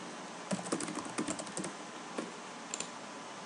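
Keys clatter on a computer keyboard as a forum post is typed, coming in uneven bursts of quick clicks with brief pauses, close and fairly quiet.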